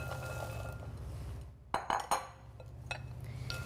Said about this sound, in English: and give them a stir